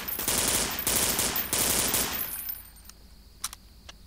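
Rapid submachine gun bursts from the SMG in Half-Life 2, loud and close in two or three sustained volleys, then dropping off to a quieter tail with a couple of faint clicks.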